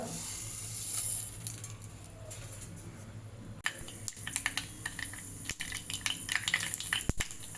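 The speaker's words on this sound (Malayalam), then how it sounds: "കടുക് നല്ലപോലെ പൊട്ടി വരുന്നുണ്ട്." Mustard seeds sputter in a little hot oil in a pan, a quiet spray of sharp pops and crackles that grows busier and more irregular toward the end.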